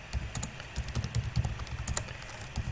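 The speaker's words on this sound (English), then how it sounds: "Let's type in the code." Computer keyboard keys being typed in quick, irregular bursts of close clicks while entering program code, steady and unaccompanied by speech.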